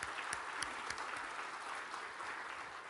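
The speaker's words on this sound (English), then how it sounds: "I think it's appropriate that we give him a little round of applause." Audience in a conference keynote hall gives a steady round of applause, dense clapping filling the room at moderate volume for the full few seconds with no voices over it.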